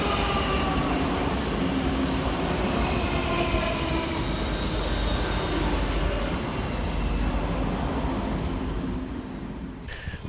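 Two Scotrail class 334 electric multiple units pass through Edinburgh Haymarket station, a loud, continuous close-up rumble of wheels and rail with steady clatter that eases slightly near the end.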